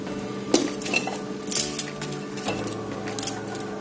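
Fish goes into a cooking pot amid clinks of metal utensils against the pot, with sharp irregular knocks and scrapes over a quiet room, no talking.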